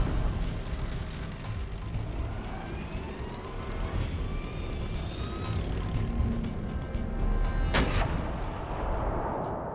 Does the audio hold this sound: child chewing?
no